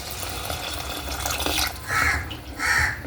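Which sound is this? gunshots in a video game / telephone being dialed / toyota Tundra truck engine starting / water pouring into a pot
water pouring into a pot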